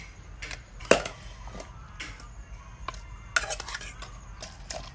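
Fresh chilies and boiled eggplant pounded in a mortar: scattered, fairly quiet knocks and clinks, with two sharper strikes standing out against a low background.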